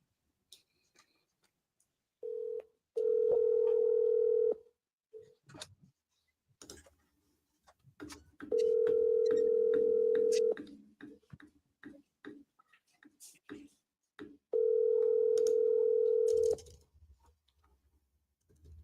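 An outgoing telephone call rings three times in long, steady tones with gaps, before reaching voicemail. Soft clicks, taps and faint background noise fill the pauses.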